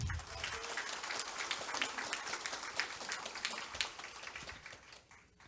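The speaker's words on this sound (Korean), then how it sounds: "한 분 한 분 소개해 드릴 때마다 큰 박수 부탁드리겠습니다." A crowd at a public hearing applauds introduced guests, steady scattered clapping that fills the space at a modest, somewhat distant level before tapering off.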